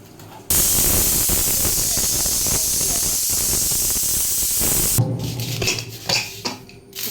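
A pressure cooker in a home kitchen lets out a loud, continuous steam hiss lasting several seconds and then cuts off abruptly, followed by scattered clinks and clatter of pots and utensils.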